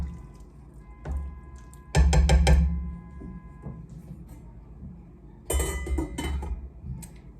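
Metal spoon clinking and scraping against a soup pot while stirring vegetables and pasta noodles, with two louder bursts of clattering separated by quieter stretches.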